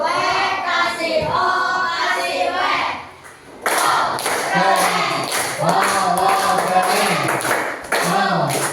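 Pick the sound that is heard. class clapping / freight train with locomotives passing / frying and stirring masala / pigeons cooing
class clapping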